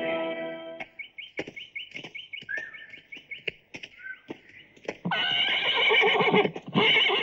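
A horse neighs in a Hindi action film scene, a loud whinny opening the clip, followed by scattered bird chirps and hoof clatter, then a second long, strong neigh near the end.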